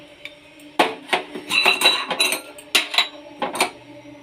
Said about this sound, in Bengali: এগুলোকে নামিয়ে নিয়ে কড়া বসিয়ে দিলাম।